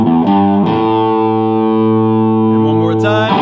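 Distorted electric guitar plays a blues-rock lick, sustained overdriven notes ringing loudly and steadily with a few note changes and a brief scrape near the end.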